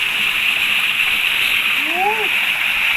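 Water gushes hard from a narrow garden hose into a pond-like tub in a rice field, a loud, steady rushing splash that fills the whole stretch, with a brief rising chirp partway through.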